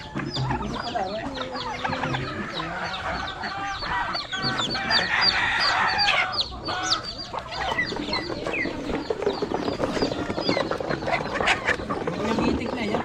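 Chickens cluck steadily in a Batangas backyard farm, with a rooster crowing among the flock, busy and close throughout. People talk intermittently underneath.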